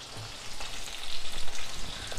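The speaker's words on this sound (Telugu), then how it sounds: "కొంచెం వేగుతున్నాయి కదా, ఇంకా చూడండి ఎలా వేగుతున్నాయో." Lemon pieces with garlic and turmeric fry in hot oil for a lemon pickle, a loud, dense crackling sizzle that holds steady and close throughout.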